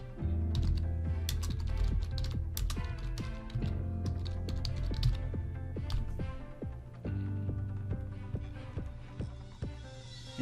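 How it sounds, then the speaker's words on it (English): A name is typed on a computer keyboard in quick bursts of crisp, close key clicks with short pauses, over a soft steady tonal background. "Type a name and an optional description."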